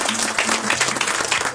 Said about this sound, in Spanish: su fuerte aplauso